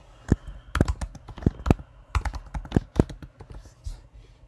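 Someone types on a Chromebook keyboard in irregular bursts of sharp, close clicks and taps, fairly loud, with soft murmuring faintly underneath.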